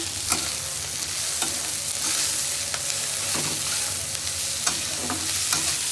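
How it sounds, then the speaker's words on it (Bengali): Pointed gourd fries in a hot pan with a constant crackling sizzle, broken by occasional scrapes and clinks as it is stirred, close and steady throughout. "তারপর আবার একটু ভালোভাবে নাড়াচাড়া করে নিতে হবে"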